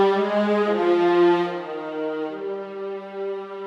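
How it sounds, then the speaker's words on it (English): Solo viola from a sampled orchestra library, a warm sustained legato line moving between a few notes at a soft, steady level with no talking. "F1 viola sound like this."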